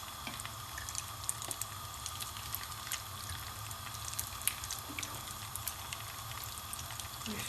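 Tuna bricks frying in oil, a continuous close crackling sizzle with scattered sharp pops, steady throughout and without talk.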